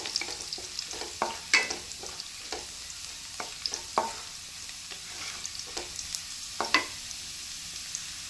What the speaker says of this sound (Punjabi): ਲਸਣ ਨੂੰ ਤੁਸੀਂ ਅੱਧਾ ਕੁ ਮਿੰਟ ਪਕਾਣਾ ਪਹਿਲਾਂ ਇਹਦੇ ਨਾਲ ਖੁਸ਼ਬੂ ਬਹੁਤ ਹੀ ਵਧੀਆ ਆਉਂਦੀ ਹੈ